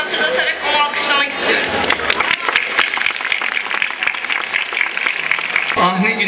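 An audience at a high school graduation ceremony applauds a long-serving staff member, a dense round of clapping and crowd noise under voices, fading out near the end.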